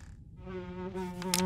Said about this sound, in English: Buzzing's a little bit close to my ear, for my liking